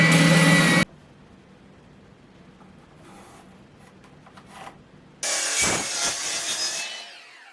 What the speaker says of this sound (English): I'll sand this curve on the spindle sander